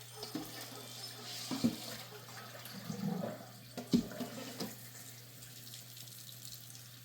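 Tap water runs into a kitchen sink while beef ribs are rinsed under it, a steady close stream with a few louder splashes and knocks as the meat is handled.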